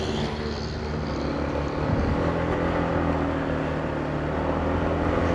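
Motorcycle engine labouring steadily up a steep mountain road in Atok, Benguet, with a broadband wind-buffeted drone running continuously throughout.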